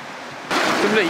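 Rushing water of a waterfall at Sooke Potholes in British Columbia, Canada, a steady broadband roar that swells louder midway through, with a voice faintly present.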